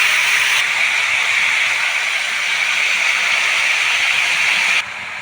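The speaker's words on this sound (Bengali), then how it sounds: "ভালো করে একটু নেড়ে চেড়ে নিয়ে কিছুক্ষণ ভাজার জন্য ছেড়ে দেবো" Pumpkin, potato and chickpeas fry in a pan with a steady, loud sizzling hiss that holds evenly for a few seconds and then drops off abruptly near the end, no talking.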